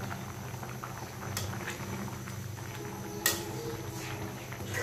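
Rice boiling and foaming in a pot, a soft steady bubbling simmer heard close but quietly, with a couple of brief clicks or knocks.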